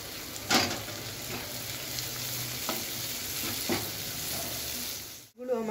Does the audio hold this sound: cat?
no